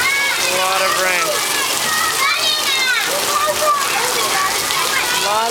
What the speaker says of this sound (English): Look at all that rain.